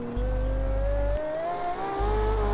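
Race car in Project Cars 2 on PS4 brakes hard and then powers back on, engine note dropping out briefly before rising again in a loud, steady rev through a slight kink, with a high whine running throughout.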